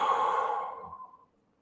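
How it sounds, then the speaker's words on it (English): A single close, soft exhale through the mouth during a calming breathing exercise, fading out over about a second into silence. "inhaling through your nose, exhaling through your mouth"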